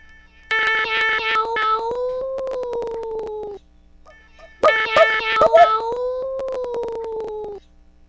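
Two long, drawn-out cat meows play from the Scratch sound library, each strained and wailing, sounding like choking, separated by a brief pause and heard alone and close.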